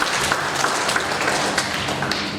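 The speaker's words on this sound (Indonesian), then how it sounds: "Berikan tepuk tangan buat Tuhan Yesus." A church congregation at a Sunday worship service claps together, a dense, steady wash of applause filling the room from start to finish.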